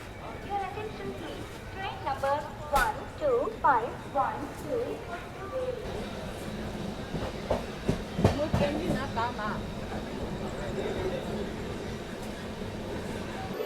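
A Jayati Janta Express (16381, Pune–Kanyakumari) rolls along steadily with continuous rail rumble and clatter, a few sharper clanks and squeals rising through it, while voices murmur faintly in the background.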